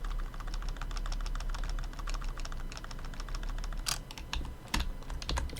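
Fast continuous typing on a worn computer keyboard, a dense stream of close key clicks with a few louder, sharper strikes near the end, alone over a low background hum.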